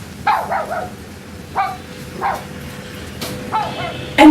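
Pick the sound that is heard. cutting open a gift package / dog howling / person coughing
dog howling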